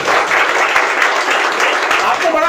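A seminar audience at a network marketing training session claps for themselves, a dense, steady wash of applause filling the room with voices mixed in.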